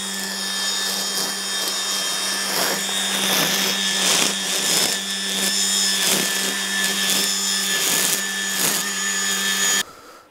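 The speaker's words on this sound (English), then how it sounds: "Well, I just did some weed whacking." A gas-powered weed whacker trims grass outdoors, its engine droning steadily and loud up close with whining harmonics and brief surges as the line cuts, then cutting off abruptly near the end.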